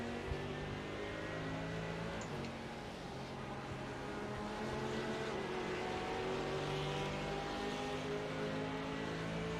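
Race cars on a circuit in a racing video game, a steady droning blend of several engines held at high revs with a faint passing whine, continuous and moderately loud without talk.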